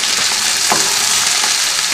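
Potatoes and dried tomatoes sizzle steadily in a hot pan, a dense close frying hiss with a couple of brief scraping stirs, no voices.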